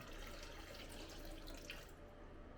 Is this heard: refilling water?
yes